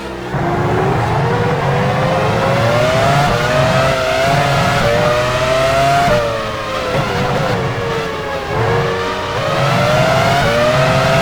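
A Formula 1 race car engine drives into the pits at Sepang in the 2002 Malaysian Grand Prix in F1 Challenge 99-02, a loud, steady, high-pitched whine that rises and dips gently in pitch throughout.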